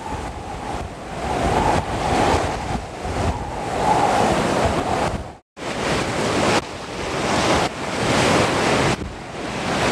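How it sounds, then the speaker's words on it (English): Howling wind and storm waves crash over a jetty on a stormy sea, a loud, close, continuous roar of surf and gusts with one brief dropout midway. "the wind is just howling here"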